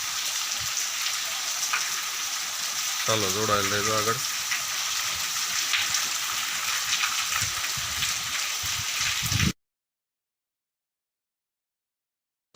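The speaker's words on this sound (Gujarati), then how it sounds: "એકદમ ઝડપી વરસાદ આવ્યો" Heavy rain pours in a dense, continuous roar over Khokharada village in Gujarat, with someone briefly speaking over it before the sound cuts off.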